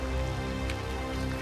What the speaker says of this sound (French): Bon bah il grêle.